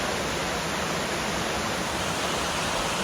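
Yongseon Falls in Seoraksan's Gugokdam valley pours as a steady, even hiss-roar of falling water, continuous and fairly close, with no other sounds standing out.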